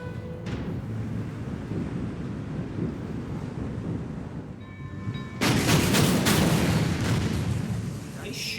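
Artillery and gunfire from the WWII strategy game Order of Battle: Kriegsmarine, a steady low rumble that swells into a louder, sustained barrage of booms partway through.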